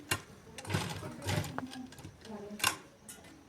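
A sewing machine stitches along a shirt collar in short, quiet bursts of rapid whirring and ticking, stopping and starting between runs, close by but low in level.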